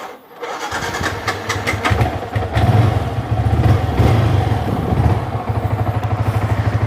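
A motorcycle engine cranks and catches, then runs with a loud, rapid, steady idle close by.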